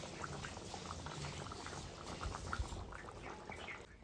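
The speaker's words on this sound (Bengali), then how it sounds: "এদিকে তরকারিটা ফুটছে" Chicken kosha curry bubbling in a pot, a steady close simmer of soft bursting bubbles and liquid churn running evenly throughout with no talk.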